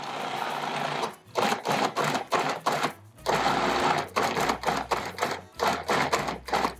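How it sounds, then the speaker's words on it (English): A food processor pulses dairy-free cream cheese frosting in short bursts of motor whir separated by brief pauses, close and fairly loud, with a low hum running through the later part. "You can do a little pulsing so the chunks get incorporated."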